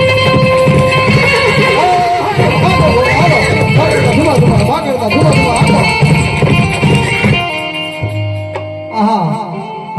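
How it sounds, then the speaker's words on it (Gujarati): During a staged folk play at a village Navratri gathering, loud horse whinnies ring out repeatedly over a dense bed of music and chanting voices, with a rhythmic clip-clop of hooves running underneath before the sound thins near the end. "ધુઆ ધુઆ હાકો હાકો ઘોડા હાકો"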